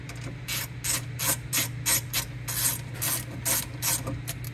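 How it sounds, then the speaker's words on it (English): Ratchet driving bolts while a rear sliding shelf is installed in an Ineos Grenadier, a close, steady series of crisp clicking pawl strokes repeating about twice per second over a low background hum. "So yeah, let's screw it in."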